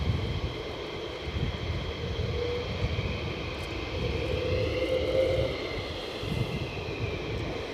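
F-15 fighter jets inbound at RAF Lakenheath, a distant, steady low rumbling engine roar that swells slightly and never fades out, with no voices.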